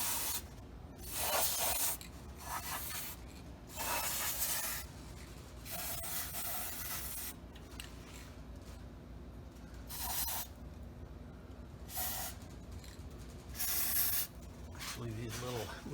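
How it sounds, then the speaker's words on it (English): Cavity wax spray hissing in repeated bursts into the rusty body cavities of a Ford F-150 truck, close and fairly loud, with pauses between bursts and someone talking quietly at times. "I'm going to spray inside the cavities now."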